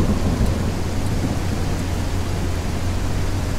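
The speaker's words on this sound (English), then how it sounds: "A storm." Steady rain and rumbling thunder fill the air in an atmospheric suburban game scene, a dense, loud, unbroken wash of storm noise with no voices over it.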